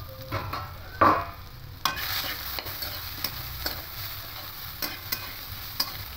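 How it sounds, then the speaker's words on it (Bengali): Bitter gourd slices sizzle steadily in a hot covered pan while a utensil scrapes and stirs, with occasional sharp clicks. "এভাবে ঢাকা দিয়ে দিয়ে ভাজবো"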